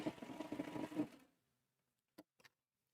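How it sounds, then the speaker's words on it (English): A Baby Lock Triumph serger stitching on air, with no fabric, runs in a fast, steady whir for about a second, then stops, followed by a few faint clicks. "So now I can sew on air."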